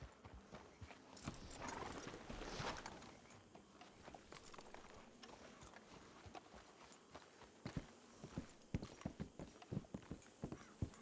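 Horse hooves in the video game Red Dead Redemption 2 clop along at a walking pace, sparse at first then quickening into a steady run of clear, close clip-clops over soft background noise.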